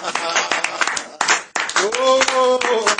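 A church congregation clapping and cheering at a service, with loud clusters of hand claps and raised voices, a voice sliding up in a sung or shouted cry near the end.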